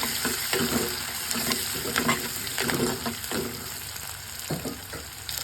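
Curry leaves spit and crackle in hot oil in a pan, a dense and fairly loud sizzle broken by rhythmic stirring scrapes.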